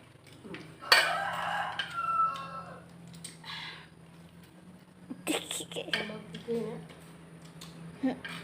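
A rooster crows nearby in a home setting, with several crowing and clucking bursts spread through a quiet background hum and people talking softly in between.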